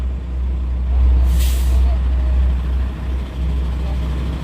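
A giant truck with a high cab, stopped at a roadside restaurant, rumbles loudly at idle while a sharp air brake hiss bursts out near the one-second mark.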